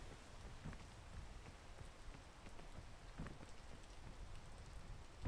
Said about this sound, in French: dans ce biome, il pleut tout le temps